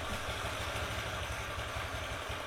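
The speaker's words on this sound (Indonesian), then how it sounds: "ini kan misal saya posisikan langsam seperti ini, nah ini kan motor masih enak nyalanya" A Honda Vario 110 scooter engine idles steadily nearby, its low, even chugging pulsing at a regular rhythm.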